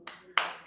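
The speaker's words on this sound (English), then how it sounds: "Let's clap for ourselves." Three sharp, loud claps close by, evenly spaced in under a second, from an audience clapping during a business talk.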